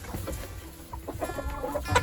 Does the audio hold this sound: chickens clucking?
yes